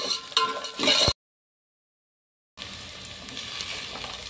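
A puffed rice snack with roasted gram and garlic sizzles in a pan while being stirred, with close frying crackle and scraping, cut by a silent gap of about a second and a half before the sizzling resumes.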